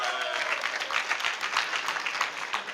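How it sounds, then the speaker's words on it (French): A church congregation applauds in a brief burst of dense, steady clapping from many hands, heard close and fairly full for a few seconds. "Bonne main d'applaudissement pour ça."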